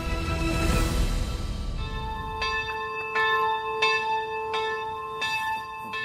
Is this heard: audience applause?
no